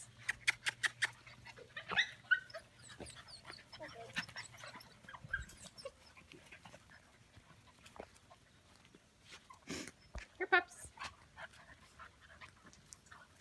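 Puppies nearly eight weeks old whimper and yip in a string of short, faint, high cries. Quiet voices murmur nearby, and a few sharper yelps stand out partway through.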